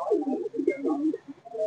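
A Malwai pigeon coos repeatedly in soft throaty phrases close by, with a brief pause near the end before cooing resumes.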